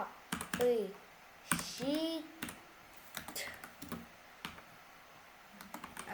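Computer keyboard typing in a Minecraft chat box, a few quick bursts of clicky keystrokes spread across the moment, fairly close, mixed with intermittent voice sounds.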